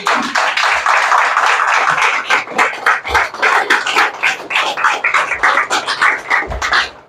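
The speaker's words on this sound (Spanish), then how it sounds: "Denle un fuerte aplauso al Señor." Loud, dense applause from a church congregation at an evangelical service fills the space, with many hands clapping together in a continuous, busy patter and occasional low thumps beneath it.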